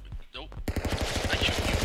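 Rapid gunfire in the stick-figure brawler game Stick Fight: The Game, a fast string of sharp shots that starts abruptly after a short stretch of speech and keeps going steadily.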